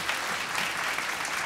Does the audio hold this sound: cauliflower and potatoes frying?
no